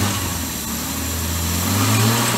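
A Series 1 Jaguar E-Type runs at a steady, even idle just after its first start in 30 years. The engine is close and loud, with a constant low hum and no talking.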